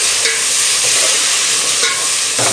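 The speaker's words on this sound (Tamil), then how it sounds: "இப்படி எண்ணெயிலேயே வதக்கிக்குவோம். இப்போ தக்காளி சேர்த்துக்கலாம்." Tomatoes sautéing in oil in a pan while making South Indian sambar, a loud continuous sizzle and hiss with occasional stirring scrapes throughout.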